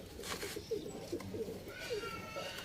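Teddy pigeons in Sialkot coo in soft, repeated low notes, several calls spread through a quiet background at close range.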